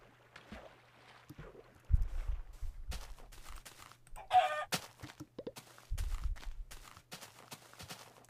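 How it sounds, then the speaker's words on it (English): A Minecraft chicken clucking in short, scattered bursts among other game sounds and thumps, fairly quiet and intermittent, with no voices. "Die, chicken!"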